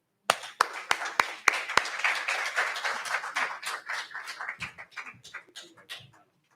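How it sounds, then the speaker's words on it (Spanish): A church audience welcomes Pastor Rafael Sánchez with applause: a few sharp, separate claps open into dense, steady clapping that slowly thins and fades over several seconds. "vamos a dar un fuerte aplauso dando la bienvenida a nuestro pastor Rafael Sánchez."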